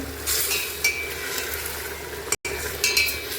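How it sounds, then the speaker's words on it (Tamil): Washed chicken goes into a biryani pot and is stirred, producing a loud close sizzle with a few metallic clinks of the utensil against the pot and a brief dropout. "வாஷ் பண்ணி வச்சுருக்கிற சிக்கனை இதில் ஆட் பண்ணுறோங்க"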